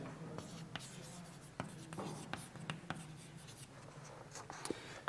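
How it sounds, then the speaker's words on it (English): Chalk or marker scratching across a board in a physics lecture hall, a run of short taps and strokes with irregular rhythm over steady room hiss, fairly faint and close, no speech. "I just write it here for convenience."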